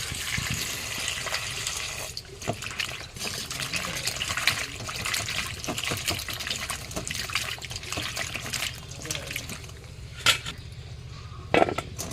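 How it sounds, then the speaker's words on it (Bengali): Pieces of cut bottle gourd are washed in water, with splashing, trickling and occasional clinks of a pot or bowl, close and moderately soft throughout. "লাউটা কেটে নিয়েছি এখন ধুয়ে নিই"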